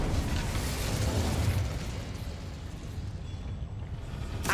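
Incendio fire spell cast in Hogwarts Legacy, a broad whooshing roar of flame that starts strong and tapers into a steady rumbling rush, with no talk over it.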